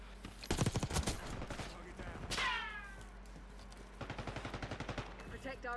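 Gunfire in the video game Call of Duty Black Ops 6, rapid automatic bursts that rattle in two clusters around a whooshing sweep, loud and close over a steady game background with no voices.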